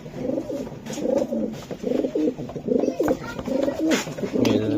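Racing pigeons, a moulting hen among them, coo repeatedly in low rhythmic bursts close by, with faint background voices now and then.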